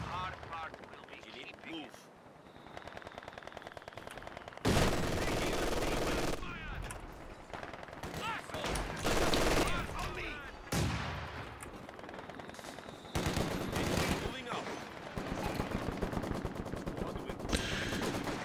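Bursts of machine gun fire in a war video game, loud sustained rattling volleys that start and stop in several separate bursts, with heavy gunfire and explosions filling the background as players talk over it.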